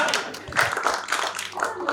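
Studio audience clapping on a Turkish comedy talk show, heard as a short burst of uneven claps and taps mixed with voices.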